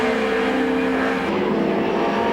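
Touring cars racing at Donington Park in a British Touring Car Championship round, with engines from the 2-litre class among them, give a loud, steady, close engine drone that holds unbroken throughout.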